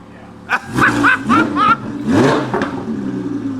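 Audi R8 V10 Plus with exhaust valves closed, revving in several short loud bursts that rise and fall in quick succession, close by, with a lower steady idle between and after.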